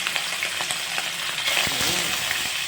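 Kitang fish frying in a pan, a steady dense sizzle and crackle with occasional pops and a brief stir, close and continuous with no talk.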